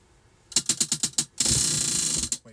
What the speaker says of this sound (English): I'm going to spin from here for our first stitch